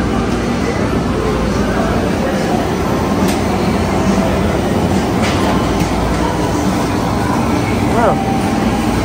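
A subway-like train runs steadily and loudly throughout, a continuous rumbling roar with faint rail clatter, heard from close by with no breaks.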